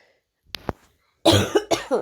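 Two sharp coughs close to the microphone, followed by a person talking.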